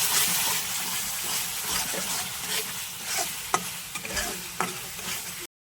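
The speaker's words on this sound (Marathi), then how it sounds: "मसाल्यांना तेल येण्यासाठी थोडा वेळ असे मिक्स करूयात" Spices fry in hot oil for a cauliflower and peas curry while a spoon stirs them, giving a steady close sizzle broken by a few sharp scrapes and taps against the pan.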